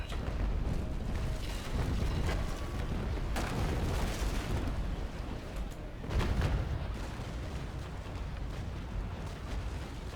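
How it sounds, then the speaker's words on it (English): Carronade cannons fire at a ship in the Naval Action naval combat game, booming blasts and rumbling crashes rolling through a dense, noisy battle, with heavier bursts near the start and middle. "at that range, with the carronades that we have, we can actually, punch through the hull quite effectively there"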